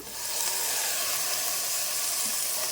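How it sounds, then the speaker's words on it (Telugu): Chopped tomatoes drop into a pan of onions and green chillies fried golden, setting off a loud, steady, close sizzle and hiss that fills the short stretch with no talk. "ఇప్పుడు టమాటా వేసేద్దాము"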